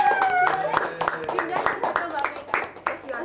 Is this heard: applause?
yes